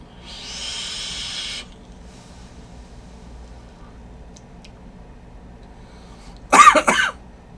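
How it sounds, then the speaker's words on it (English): A person coughs during a vape juice review, a short burst of harsh coughs near the end after a long stretch of exhaled vapor hiss and quiet room noise. "Yeah, I'm gonna keep coughing."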